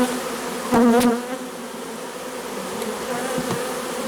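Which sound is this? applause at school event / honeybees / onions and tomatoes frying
honeybees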